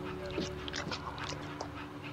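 A service dog in the video game That Dragon, Cancer gives soft whimpering and yipping sounds, a few short dog vocalizations set against a steady game music bed.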